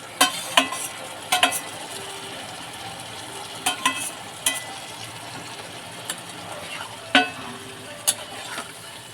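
Fish and masala sizzle steadily in a hot pan after a splash of water, with a constant frying hiss broken by sharp clinks and scrapes of a spatula stirring against the metal, close and fairly loud.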